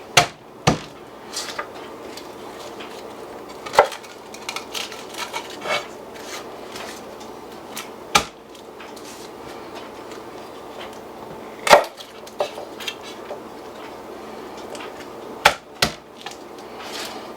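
Garlic cloves smashed flat with a knife on a wooden cutting board while cooking short ribs: several sharp, loud, isolated whacks spaced a few seconds apart, with soft handling noises between them and no talk.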